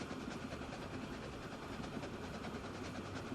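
A train runs steadily in the Transport Fever rail simulation game, a faint, continuous rumbling and rolling drone with no stops or voices.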